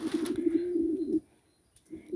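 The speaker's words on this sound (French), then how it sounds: "Des magnifiques pigeons" Pigeons coo at their coop beside a greenhouse, a close, steady throaty cooing for about a second, then a pause before a few softer coos return, with light wind in the background.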